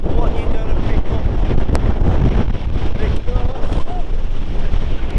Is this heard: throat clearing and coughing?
no